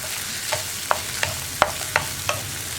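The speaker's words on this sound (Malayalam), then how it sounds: "അപ്പോൾ വറ്റൽമുളകും ചേർത്ത് നന്നായിട്ടൊന്ന് ഇളക്കി കൊടുക്കുക" Dried red chillies being stirred into wet chutney ingredients in a hot pan, with a soft frying sizzle underneath and about six sharp spoon scrapes and knocks at irregular intervals, close up and without any talking.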